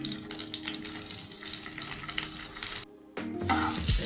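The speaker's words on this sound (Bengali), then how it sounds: "তো আলুটা একটু ভেজে নিই।" Parboiled potatoes fry in hot oil in a wok with a loud, continuous sizzle. It cuts out briefly near the end, then the crackling returns even stronger.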